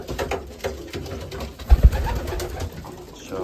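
Young racing pigeons coo in a pigeon loft, a string of soft, throaty calls close by, with a couple of sharp low thumps partway through.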